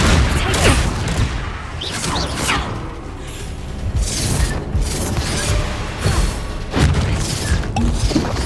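Confringo spell blasts in Hogwarts Legacy, several booming impacts and crashing bursts with whooshes over a dense battle din, loud and continuous with no talk.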